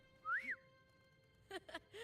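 The game character Lupa whistles a short rising and falling note, then a few brief chirpy whistles after a pause, clear and close over faint background music.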